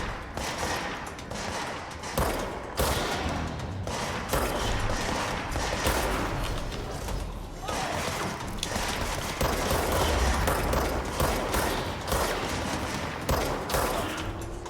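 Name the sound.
gunfire in the video game Control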